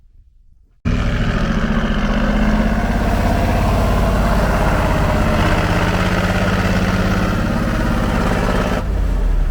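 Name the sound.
snowplow engine as someone tries to reverse it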